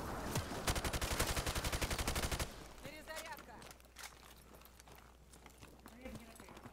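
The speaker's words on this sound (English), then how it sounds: "Chain gun." A chain gun fires in a video game as a loud, rapid stream of shots for about two seconds. It gives way to scattered quieter impacts and movement sounds, with some voices heard faintly.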